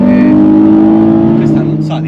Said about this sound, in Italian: si sente il ruggito di questo V6 da fuori